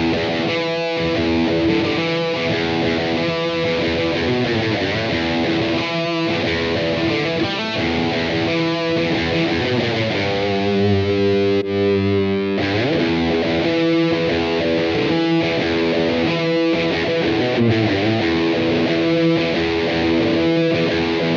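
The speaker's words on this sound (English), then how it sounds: "And then last but not least, we have overdrive." A guitar amplifier with the overdrive channel engaged plays distorted chords and riffs, a thick buzzing tone with rhythmic strums and a brief sustained passage, loud and alone.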